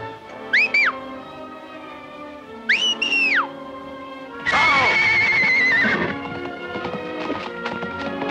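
Horses neigh in a Mexican western setting: two shrill whinnies early on, followed by a longer, louder neigh, with hoof clatter and commotion continuing afterward and no talk.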